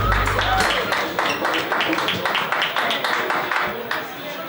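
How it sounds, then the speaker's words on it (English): Audience applauding a guest from Salt Lake City at a live podcast taping, a dense wash of clapping sustained throughout at steady loudness, with a low rumble at the start. "Let's give him a round of applause."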